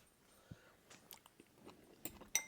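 Celery being chewed at a meal of Instant Pot cooked vegetables, heard as a few scattered crunchy bites and soft mouth clicks close to the mic, quiet between the crisp bursts.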